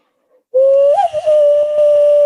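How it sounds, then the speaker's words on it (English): A person whistles one steady, sustained note, loud and close, with a slight wobble near the start and no other sounds. "does it do it when I whistle?"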